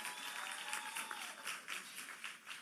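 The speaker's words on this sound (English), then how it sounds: "Give yourselves another round of applause." Applause from a commencement crowd at a skill center graduation ceremony, a steady, fairly faint wash of clapping that fills the short stretch without a break.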